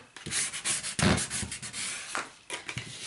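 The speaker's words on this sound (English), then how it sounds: "Make sure that you burnish really, really well so that that tape is on there." Tape is burnished firmly onto a canvas hinge for a mini album, giving close, soft rubbing and scraping strokes in uneven bursts.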